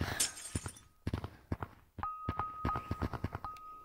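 A glass panel breaks in a Squid Game video game: a series of sharp cracking and shattering impacts with thuds, heard alongside a sustained electronic tone.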